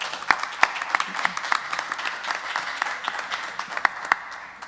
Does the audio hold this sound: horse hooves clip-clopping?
no